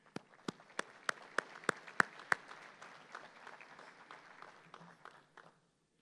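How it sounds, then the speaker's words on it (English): Scattered applause from a luncheon audience at a Chamber of Commerce monthly event, a few loud individual claps standing out over a softer patter that thins and fades after about five seconds. "A big round of applause for E-Step Energy."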